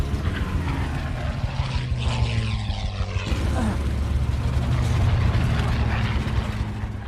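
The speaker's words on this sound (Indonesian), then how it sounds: "pesawat Inggris terus mengejar dan membuntuti pesawat Jerman disertai rentetan tembakan" Propeller engines of British and German warplanes in a dogfight near Dunkirk and the Dover Strait drone continuously, with a shift in pitch partway through; no distinct gunfire bursts stand out.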